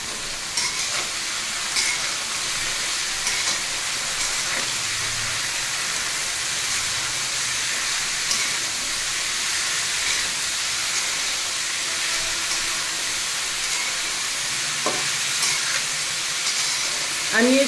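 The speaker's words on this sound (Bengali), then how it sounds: "আমি এই সবজিটাকে প্রায় 2 মিনিট সময় কষিয়ে নিব।" Mixed vegetables with turmeric and chili powder sauté in a pan, a steady close hiss and sizzle with occasional stirring scrapes throughout.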